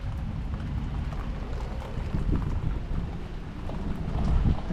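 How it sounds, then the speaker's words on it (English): Steady rain falls outdoors during a clutch replacement on a 2010 Toyota iQ 1.0, a continuous dense patter and hiss with drips and low rumbling, close by and without speech. "Look at the rain."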